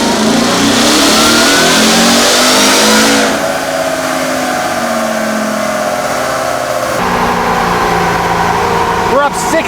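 Ford Raptor R engine revving hard on a dyno during a tuned power pull, a loud sustained roar with rising pitch that shifts through steady high-rpm stages.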